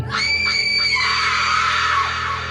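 A woman's high, sustained scream of terror rings out loud and close for over two seconds, wavering in pitch and then dipping at the end, heard alone with no talk.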